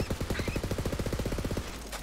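A rapid-fire gun in Borderlands 3 lets off a fast, even burst of about twenty punchy shots in under two seconds, loud and close, then stops.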